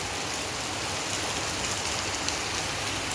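Rain falls outdoors during a day of wild honeybee hive harvesting, a steady dense patter and hiss at an even level across the whole stretch, with no voices.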